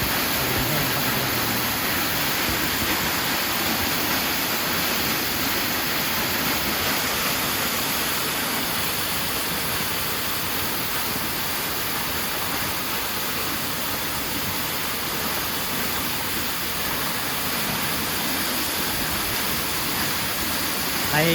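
Steady rushing water fills the scene with a constant hiss and roar, unchanging and broad, like a waterfall heard fairly close; the waterfall at Ban Huai Huat, Chan Phen subdistrict, in Thailand, with low water.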